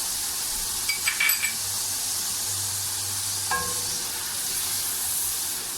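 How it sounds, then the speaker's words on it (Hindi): Whole cumin seeds and dried coriander hit hot oil in a pan for a Pakistani-style daal maash, giving a steady soft sizzle with a few clinks of utensils against the pot near the start and middle, and no speech. "इसमें ये हमने 2 टीस्पून साबुत जीरा लिया था वो डाल देंगे।"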